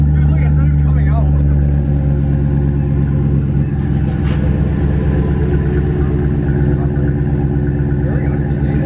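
A Ram 1500 pickup fitted with a Flowmaster American Thunder cat-back exhaust idles with a steady, deep, loud rumble close by, while people talk over it.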